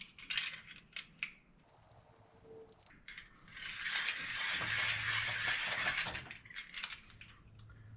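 A hand tool scribes and cuts through material with clicking, ratcheting bursts and a sustained gritty grinding stretch in the middle, close and fairly loud.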